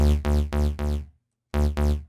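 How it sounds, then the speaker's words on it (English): A deep synth bass made in Harmor plays short, punchy repeated notes, four in a row, a brief silence, then two more, each ending with a quick fade. "So our bass should sound like this right now"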